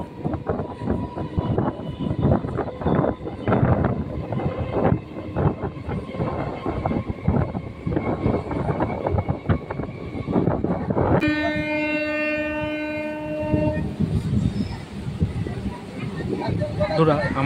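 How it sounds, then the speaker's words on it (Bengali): A crowded local train pulls out of Dhakuria station with steady rumbling and clattering wheels, then a loud sustained horn blast near the end. "আমাদের ট্রেন এখন ঢাকুরিয়া স্টেশন ছেড়ে বেরিয়ে যাচ্ছে"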